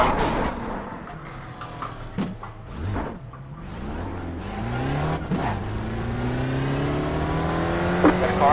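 A race car in the iRacing sim on an oval, damaged and shifting sloppily, revs hard with rising and falling engine pitch through gear changes, a brief tire squeal and a steady loud drone near the end.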